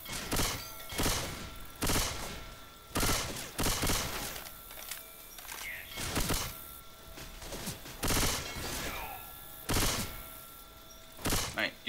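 Bursts of gunfire from players shooting zombies in Left 4 Dead 2, loud sharp volleys repeating across the stretch with short gaps between them and faint game sounds in between.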